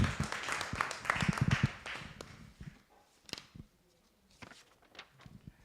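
Audience applause at a media launch for the Global Tamil Research Conference in Toronto: a burst of clapping from a room of people fades after a couple of seconds into scattered claps and quiet.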